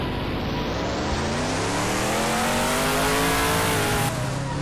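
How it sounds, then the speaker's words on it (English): A Mustang in a racing video game revs hard and loud, its engine pitch climbing steadily through a long continuous pull with no talking over it. "that car sounds badass as shit. I had to look behind me to see what it was. I think it was a Mustang."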